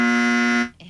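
A loud, harsh quiz-show buzzer on a live radio call-in game sounds once, a steady rasping tone lasting most of a second before cutting off abruptly.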